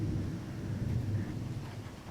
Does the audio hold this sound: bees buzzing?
no